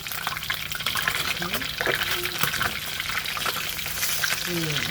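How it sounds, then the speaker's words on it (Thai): Fish frying in hot oil until crispy for a Thai nam prik num dish makes a loud, continuous bubbling sizzle close by, with faint voices in the background. "เราก็ทอดให้มันกรอบ"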